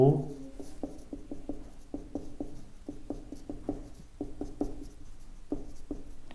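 Handwriting a physics definition during a classroom lesson: quick, rhythmic scratching strokes of pen or chalk, steady and fairly close, with a voice speaking over part of it.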